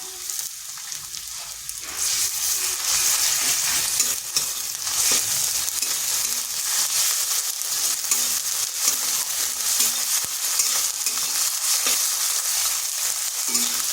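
Ginger-garlic paste fries with onions in a pan as a loud, continuous hiss-sizzle that swells after a quieter first two seconds, with faint stirring scrapes and no talk.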